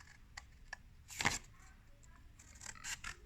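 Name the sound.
scissors cutting paper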